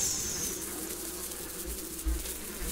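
Buzzing swarm effect in the Wild Swarm slot video game bonus, a soft, steady insect-like drone with faint electronic tones and a brief low thump near the end, no talking.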